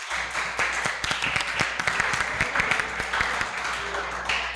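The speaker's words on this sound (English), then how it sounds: "Round of applause," Audience applause at a youth conference, a dense steady patter of many hands clapping throughout with sharper individual claps standing out, fairly close and filling the room.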